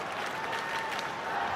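Baseball crowd at a Chicago White Sox at Tampa Bay Rays game cheering and clapping for a young fan's catch, a steady dense wash of applause and crowd noise without breaks.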